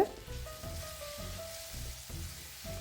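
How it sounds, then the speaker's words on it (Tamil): Onions sautéing on low heat for a squid and egg curry give off a steady, soft sizzle and crackle of frying. It stays continuous and close at moderate loudness, and no one speaks. "வெங்காயம் நல்லா சுருண்டு வதங்கும் வரைக்கும் இலகுவான சூட்டில் வச்சு வதக்கி கொண்டே இருங்க"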